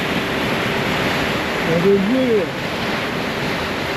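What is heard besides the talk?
ocean waves crashing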